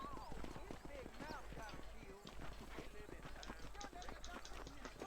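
Horse hooves clip-clopping in the video game Red Dead Redemption, a quiet steady hoofbeat rhythm under game sounds, with a person talking over it.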